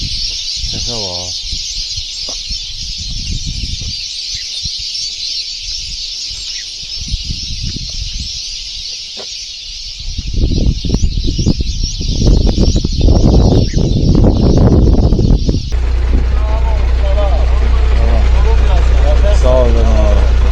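Birds calling outdoors along a roadside walk from Khojavend toward Aghdam: a constant high chirping chorus, with rooster-like and clucking calls, voices talking nearby, and a heavier rumble of wind or passing traffic in the later part.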